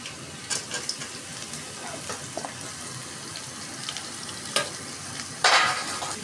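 Bitter gourd hitting hot oil with browned onion, garlic and chili, a faint steady sizzle with scattered soft stirring clicks and a sudden louder hiss near the end as the gourd goes in.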